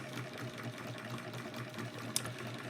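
A model Ricksona-type Stirling engine runs while pumping water, a steady, fast mechanical clatter and hum with regular periodic beats, close and continuous, with one brief sharp click near the end.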